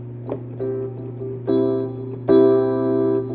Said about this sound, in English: It's more like a Bell-esque tone,